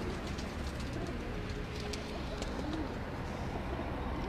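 Teddy pigeons coo softly on a rooftop loft in Lahore, a few low, rolling calls rising over a steady background murmur, with faint chirps nearby.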